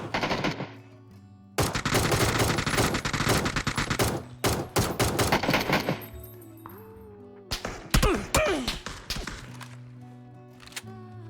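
Bursts of rapid automatic gunfire and single shots from PUBG, loud and close, with metallic clinks and brief lulls between volleys.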